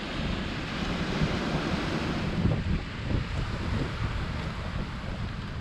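Sea waves breaking on the Peloponnese coast of Greece, a steady broadband roar of surf with gusts of wind buffeting the microphone throughout, no voices.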